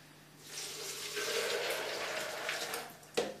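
Six cups of water pour steadily into a blender for a few seconds, a soft splashing stream that swells and ends with a small clink.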